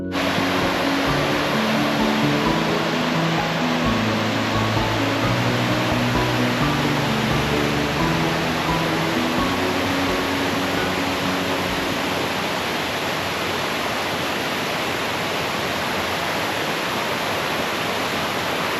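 A waterfall beside a muddy trail near Whittier, Alaska roars as a constant, dense wash of rushing water, steady and loud throughout with no voices.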